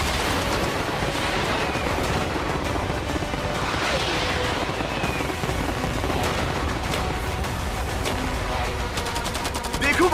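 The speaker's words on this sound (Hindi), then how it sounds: "मैं चाहता हूँ कि तुम कैनन्स, फायरवर्क्स, एरोस, कैटapults सब कुछ एक साथ फायर करो।" Cannons, fireworks, arrows and catapults all fire at once to defend a yacht, making a dense, continuous barrage of overlapping booms and cracks that holds loud from start to finish.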